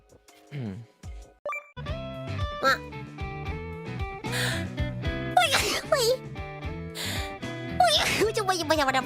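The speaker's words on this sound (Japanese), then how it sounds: "くしゃみが出ました。" A close, lively sneeze with a gasping intake blends into animated vocalizing and background game chimes, several sharp bursts clustering in the second half.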